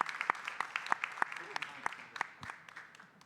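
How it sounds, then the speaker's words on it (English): A round of applause for climate tech prize finalists from the audience, individual sharp claps standing out over a steady patter, with some talking underneath, and the clapping gradually thinning toward the end. "let's do another round of applause over there for all four"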